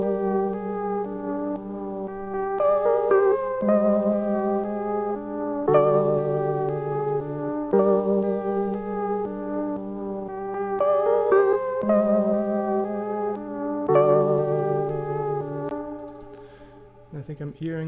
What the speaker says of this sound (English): And so now our keyboard parts sound like this.